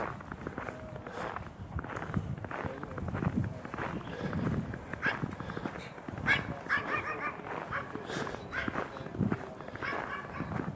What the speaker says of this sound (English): okay, somebody running with their dog.